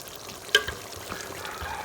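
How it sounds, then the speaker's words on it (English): Chopped okra is poured into a simmering Ghanaian stew, a soft splashing plop followed by gentle bubbling and sizzling from the pot, close and moderately loud. "I'm putting my okra inside."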